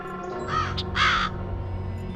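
A raven caws in the Black Mirror 2 video game, two harsh rasping calls close together over a quiet steady ambient hum.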